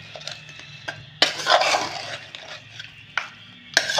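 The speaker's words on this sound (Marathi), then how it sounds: "हे चमच्यानं असं छान असं मिक्स करून घेते" A spoon stirs and mixes food in a bowl by hand, giving scraping, clinking strokes in short bursts with pauses between, fairly close and moderately loud.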